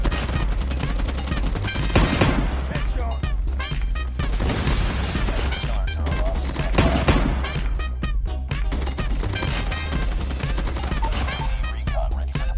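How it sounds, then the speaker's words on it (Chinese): Call of Duty gunfire crackles in dense, continuous rapid bursts with heavy impacts, loud and relentless from start to finish. "来欣赏一下我华丽的枪法。"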